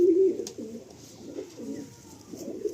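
Chotiyal pigeon pair cooing close by, a series of low rounded coos repeating roughly every half second against a quiet background.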